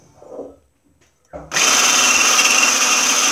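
An electric mixer whips coffee cake batter until foamy, starting abruptly after a brief quiet voice and then running loud and steady with a continuous high whir.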